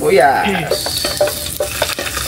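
Onions fry and sizzle loudly in a pan, with a steady hiss broken by scraping stirs from a spatula close by.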